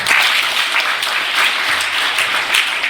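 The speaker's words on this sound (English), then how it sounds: "Give him a clap here." An audience at a Sunday personality development session at VIHE in Hyderabad claps steadily for a few seconds, a dense, fairly loud patter of hands with no voices over it.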